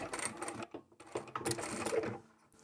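A sewing machine stitches a pouch lining in quick rattling bursts, pausing briefly as it backstitches, close and moderately quiet with no talking.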